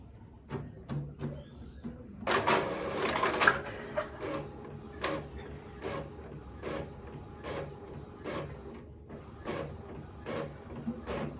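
Photocopier running while copying a hand, a series of rhythmic mechanical clicks and whirring passes with a louder burst early on, close and fairly quiet, no talk.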